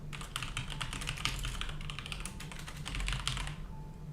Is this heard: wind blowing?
no